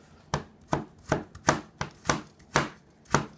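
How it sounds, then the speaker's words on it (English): A knife cuts through a piece of fresh ginger with the skin still on, landing eight crisp, evenly spaced chops on a board, close and clear with quiet gaps between strokes. "So I'm just cutting it down enough to get it"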